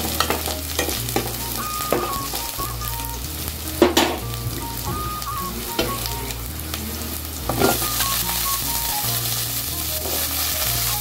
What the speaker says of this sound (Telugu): ఆనియన్స్ అయితే కొంచెం వేగాయి కదండి